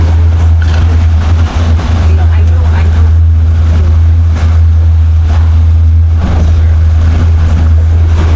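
B-class racing boats roar across open water in a constant, heavy low engine drone mixed with wind and splashing surf, very loud and close, while people talk over it.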